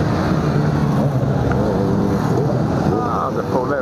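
Engine of a Polaris vehicle rolling past at a large biker meeting, a steady loud rumble with wind buffeting the microphone and a voice briefly heard.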